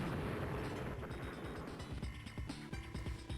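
Missile launch platform explosion in the Advance Wars 2 video game, a loud, rumbling burst of crackling blasts and rapid popping detonations that roll on continuously, slowly thinning toward the end.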